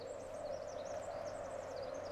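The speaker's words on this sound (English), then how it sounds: "You hear the fucking birds?" Bird calls in the video game ARK at the Blue Orby area, a steady chirping and warbling birdsong layer over a constant hum, with no talking.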